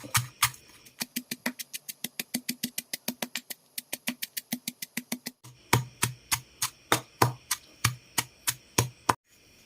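Steady rhythmic pounding of dried chili, garlic, galangal, lemongrass and turmeric in a mortar, dozens of evenly spaced thuds with a brief pause before heavier strokes resume, close and clear over a low hum.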